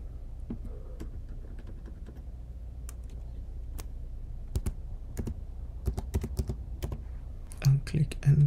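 Typing on a computer keyboard while adjusting browser settings, a sparse run of sharp close key clicks that grows busier toward the end, with a voice speaking briefly.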